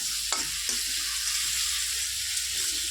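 Food fries with a steady, close sizzle in a pan of oil while a utensil scrapes and stirs a few times, with no talking.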